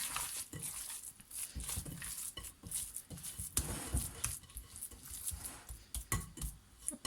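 Harcha dough of semolina is mixed by hand in a bowl, giving close, soft, irregular squelching and rubbing sounds with a few small clicks, continuous and fairly quiet throughout.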